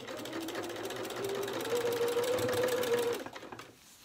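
A sewing machine runs steadily as it stitches bias trim onto a hand towel, a loud, continuous mechanical hum that speeds up slightly before stopping near the end.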